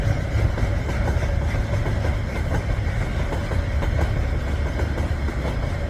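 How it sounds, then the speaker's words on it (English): KiwiRail freight train rolling past on the line to Lyttelton port in Christchurch, a steady loud rumble with rhythmic wheel clatter and engine drone filling the whole stretch, no voices. "It's a big train."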